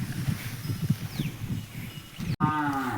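Cattle, including bullocks grazing in a field, moo repeatedly in low, drawn-out calls, one after another, followed by a louder close moo with a rising tone near the end.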